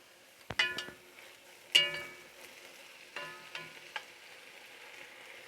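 Squash cooks in a pot with a lid, giving a soft steady sizzle and simmer under a few sharp clinks and knocks of the lid and utensils, close and fairly quiet.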